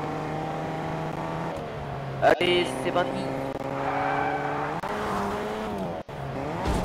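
A taxi driving in Fortnite, a steady engine drone with shifting pitch and a brief tire squeal, while a player talks over it.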